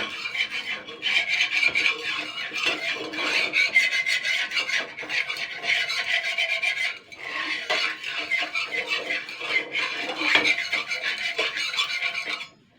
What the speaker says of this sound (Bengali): এবারে তেলটা আমি একটু চারিদিকে দিয়ে দিচ্ছি।